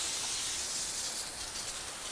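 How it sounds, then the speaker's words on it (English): A spray nozzle mists a light coat of water onto a masonry joint at a residence, giving a steady, even hiss that stays constant and fairly close for the whole stretch with no talk. "A light coat, just enough, and the spray nozzle does perfect, just to seep down into the joint"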